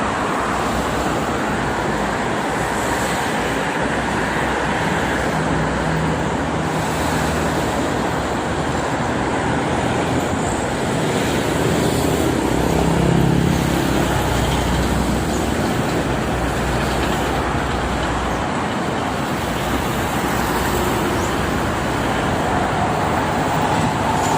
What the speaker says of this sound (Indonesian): Ini didominasi oleh kendaraan-kendaraan bus, mobil pribadi maupun pariwisata ya untuk hari ini.